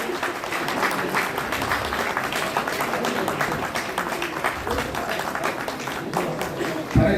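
Audience applause at a Sant Gadge Jayanti ceremony in Jamshedpur, a steady dense patter of many hands clapping throughout, with a murmur of voices mixed in.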